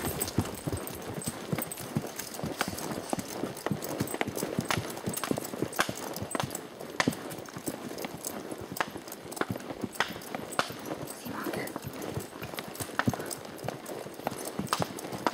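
Hooves clip-clop steadily on a hard trail, an even walking rhythm of a horse close by that continues throughout.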